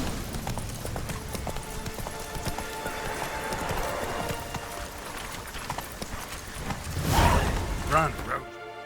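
Roach the horse galloping in The Witcher 3, a rhythmic clip-clop of hooves under background ambience and a voice, with a louder whoosh near the end.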